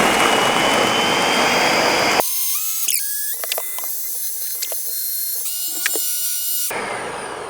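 A countertop blender whirs loudly and steadily as it purees banana, strawberry, blueberry and pineapple into a smoothie, then cuts out midway for a few quiet clinks and knocks before the roar starts up again.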